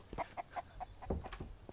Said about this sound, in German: jetzt sind wir mit dem scheiß Huhn im Haus gefangen